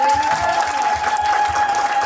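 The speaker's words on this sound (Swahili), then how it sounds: "Wapigie makofi" A church crowd at a gospel album launch claps together in a dense, steady burst that holds at full strength from start to finish, with a sustained electronic tone ringing through it.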